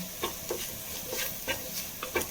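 A spatula stirs spice powders, including masala and pepper powder, as they sauté in a pan for tomato rice, making soft repeated scraping strokes with a faint sizzle underneath, quiet and close.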